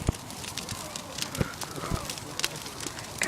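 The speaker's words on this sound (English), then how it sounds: "Here's a bonfire." A crackling bonfire on bonfire night, with scattered sharp pops and snaps over a steady low rustle of burning, heard fairly close.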